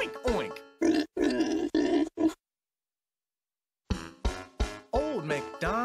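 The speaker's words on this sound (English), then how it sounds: "With an oink oink here and an oink oink there, here an oink, there an oink," Pigs grunt in a run of rough, close oinks, then fall silent for a moment before another burst of grunts.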